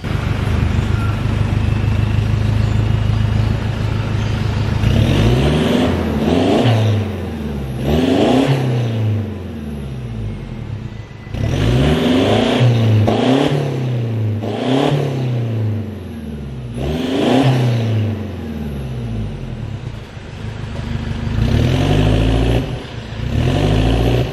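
2013 Toyota Fortuner VNT diesel engine and exhaust, fitted with a modified smooth-sounding muffler tip, idling steadily, then revved repeatedly in rising and falling bursts, heard close and loud.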